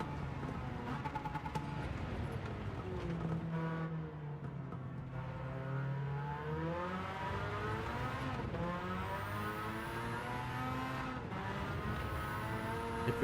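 A car driving laps gives off a steady engine drone whose pitch rises and falls as it revs and shifts through the lap, holding at moderate loudness throughout with no voices over it.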